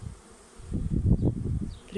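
A caught swarm of honeybees buzzing at an apiary, a dense close hum that swells up after a quiet start and stays loud with wavering pulses.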